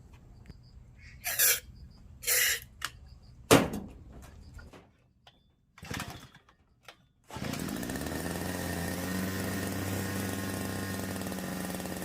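A few sharp pulls and clunks come first, then a small brush cutter engine with a replaced carburetor fires up and keeps running in a loud, steady drone.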